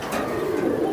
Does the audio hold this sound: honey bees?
no